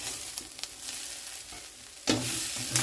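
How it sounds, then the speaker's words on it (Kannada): Onion frying in ghee: a faint low sizzle with a few soft stirring knocks, then a loud burst of hissing as more ghee and onion hit the hot pan near the end. "ಅದೇ ರೀತಿ ತುಪ್ಪ ಹಾಕ್ಕೊಳ್ಳೋದು, ಈರುಳ್ಳಿ ಹಾಕಿ ಫ್ರೈ ಮಾಡಿಕೊಳ್ಳೋದು."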